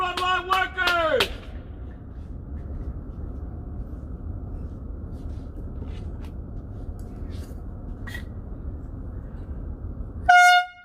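Car horns honk in tribute to frontline workers: a loud cluster of horn blasts opens, then comes a long stretch of low street ambience, and another horn sounds near the end.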